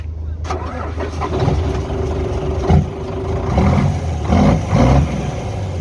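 The engine of a truck with a raised body runs close and loud, a steady rumbling idle with a few brief swells in level.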